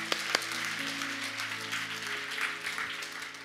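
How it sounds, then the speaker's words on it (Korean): A church congregation applauds in a sustained burst of dense clapping, with a low steady organ or keyboard tone holding underneath throughout. "우리 한번 하나님께 감사의 박수를 드리겠습니다"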